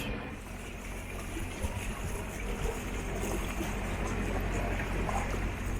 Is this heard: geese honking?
no